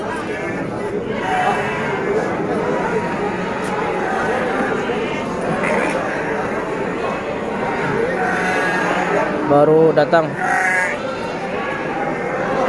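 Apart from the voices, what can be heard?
sheep bleating at livestock market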